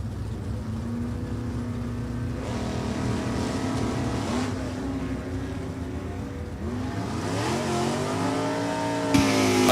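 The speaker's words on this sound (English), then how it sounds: "Pontiac to take on Ray Knight and his Mustang" At a New England Dragway drag race, a Pontiac and a Ford Mustang rev their engines with rising and falling roars that swell and overlap, loud and close.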